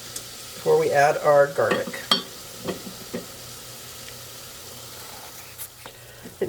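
Onion and celery sauté in a pan for a smooth, creamy dish, with a soft sizzle and a burst of stirring and scraping early on, then quieter crackles; a voice speaks briefly.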